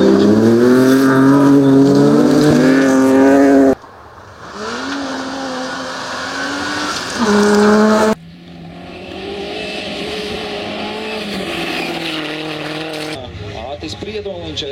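A Subaru Impreza rally car at Minirallijs Talsi 2024 takes a jump, its engine revving loudly and rising in pitch, cutting out and changing between takes, with a commentator talking over part of it.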